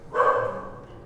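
A single bark or whine from house dogs reacting to a visitor, rising sharply and trailing off over about a second, fairly close and loud with no talk over it.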